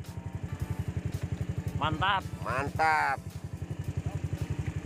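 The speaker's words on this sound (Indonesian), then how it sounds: "Eh motor itu. Wah, ya teh motor." A motorcycle engine chugs close by with a fast, even thumping beat, while a voice briefly exclaims over it.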